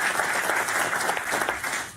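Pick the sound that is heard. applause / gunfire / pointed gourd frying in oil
applause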